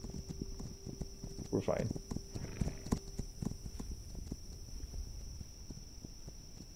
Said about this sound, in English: Get on our horse and get out of here.